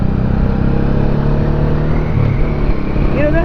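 A 1985 Honda Shadow motorcycle is ridden on a city road. Its engine drones steadily at close range with a low rumble, and a voice talks over it throughout.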